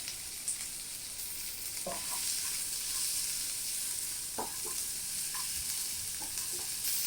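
Sliced onions with cinnamon and cloves fry in butter for a paneer butter masala, giving a constant soft sizzle broken by a few sharp clicks from a spoon stirring the pan.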